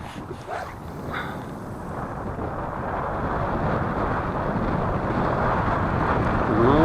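Wind buffets the microphone on Tatyshev island in the Yenisei river during grayling fishing, a rough rumbling gust that builds steadily louder.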